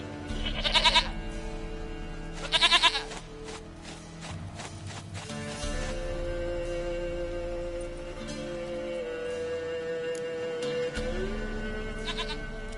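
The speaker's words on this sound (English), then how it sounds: "Goat of mine, dearest, sweetest goat." Goat bleats in The Witcher 3 game, two loud close calls near the start followed by a sustained droning game ambience with faint scattered clicks.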